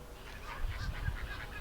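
A flock of flamingos honking in a faint, continuous chorus of repeated nasal calls heard from a distance, with no talking.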